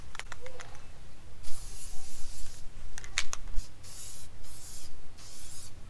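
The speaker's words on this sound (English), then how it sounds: "We're gonna go ahead and spray it on the chairs outside here" An aerosol can sprays water-based polyurethane finish onto chairs outdoors in several short hissing bursts of varying length, separated by brief pauses, with wind noise rumbling beneath.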